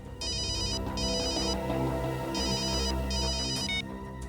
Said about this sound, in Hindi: सर, मोबाइल कंपनी से फोन था।